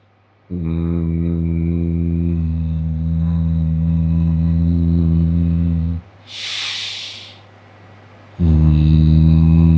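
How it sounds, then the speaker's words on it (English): Deep, steady male humming held while stretching the inside of the mouth, a long sustained low drone, then a brief breathy pause with a hiss before the low hum resumes, loud and close. "You hum as deep as you can."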